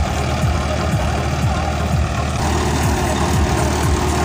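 Farmtrac 60 tractor engine running steadily with a loud, continuous low rumble and a rhythmic thumping pulse throughout, close by and without talk.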